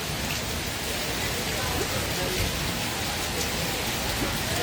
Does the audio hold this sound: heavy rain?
yes